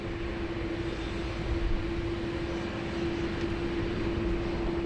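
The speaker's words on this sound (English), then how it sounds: "Air India 301 there, cleared for takeoff on 16 right" Air India airliner taking off from runway 16 right at Sydney Airport, bound for New Delhi: a steady, broad jet roar with a sustained engine whine, constant and fairly distant throughout.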